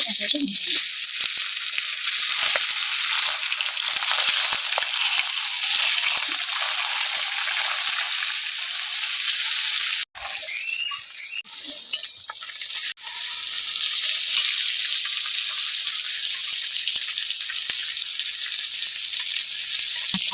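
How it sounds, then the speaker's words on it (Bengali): Parshe fish fry in hot oil with a loud, dense, continuous sizzle lasting the whole stretch, with a brief dip and a small pan knock midway, and no talk. "লবণ হলুদ মাছটা ভালো করে মাখিয়ে নেব তেল গরম হয়ে গেছে মাছগুলো"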